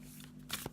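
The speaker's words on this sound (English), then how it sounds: "So I'm just going to pop down one of these Spirit Animal Oracle cards." Spirit Animal Oracle cards are handled and set down, giving a quick, quiet papery shuffle and a soft tap over a faint steady hum, with no talking.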